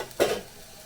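Spice masala for a raw banana curry sizzles briefly in a pan, with one short stirring scrape standing out over a soft, steady frying hiss.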